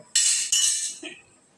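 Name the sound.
covering the khichuri pot with a lid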